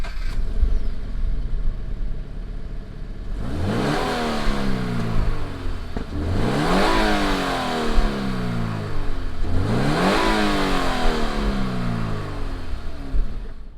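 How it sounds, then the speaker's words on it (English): A 2016 Subaru BRZ sports car engine idles, then revs up sharply three times, each rise climbing and falling back to idle, close and loud with no talking. "fire up this BRZ and see what it sounds like"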